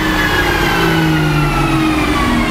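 An exotic car engine revving hard and loud on a dyno, a sustained roaring drone with rising tones that fills the whole stretch without a break, heard close and alone.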